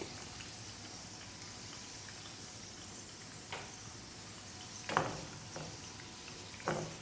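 Cashews and raisins fry in hot oil in a pan with a soft, steady sizzle, broken by a few louder crackling bursts that sound like stirring.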